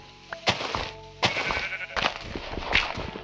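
Several short, loud sheep bleats from a blocky game sheep in Minecraft One Block Skyblock, repeating at uneven intervals with game sound effects between them and no talking.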